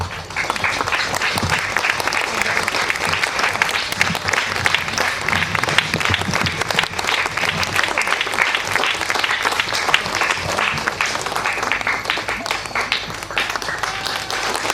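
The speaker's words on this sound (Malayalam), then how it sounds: "നന്നായിട്ട് കൈയടിക്കണം. കാരണം നമ്മൾ കൊടുക്കുന്ന ആദരമാണ് നമ്മുടെ കൈയടി." An audience at a temple festival cultural gathering claps in dense, sustained applause that stays loud and even throughout, a full crowd heard close without a break.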